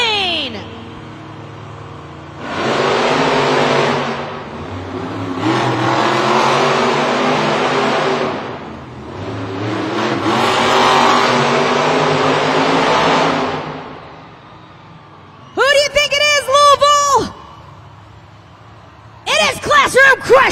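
Monster trucks race and rev inside an indoor stadium at a Monster Jam event in Louisville, Kentucky, with loud engine bellows rising and falling in several long bursts, then quieter crowd noise and a few sharp, distorted blasts near the end.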